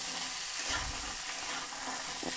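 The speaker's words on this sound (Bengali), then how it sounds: "এই সব ভালো করে ভাজতে হবে।" Soaked chickpeas and pumpkin fry together in a pan for a pumpkin chhakka, giving a continuous moderate sizzle with soft spatula stirs and scrapes scattered through it.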